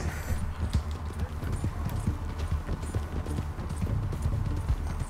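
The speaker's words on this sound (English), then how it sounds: "My horse followed me here." Horse hooves clip-clop steadily in Red Dead Redemption 2, a quick rhythmic trot running throughout at moderate volume with a low rumble beneath.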